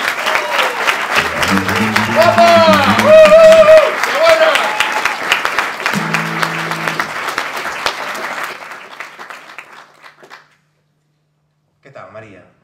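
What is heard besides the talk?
audience applause for Maria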